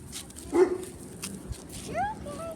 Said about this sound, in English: they weren't barking at you